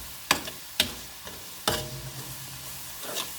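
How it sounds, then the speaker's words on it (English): Bacon and onions frying in a pan on medium heat, a soft sizzle broken by several sharp scraping stirs and clatters of a utensil against the pan, close and with no talking. "frying your onions and your bacon."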